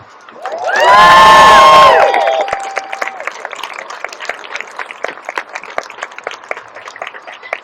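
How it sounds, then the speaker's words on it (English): A crowd at a Pride rally erupts in loud cheering and whoops, swelling for about a second, then continues as lively scattered clapping and shouts that taper off. "Give her one more round of applause."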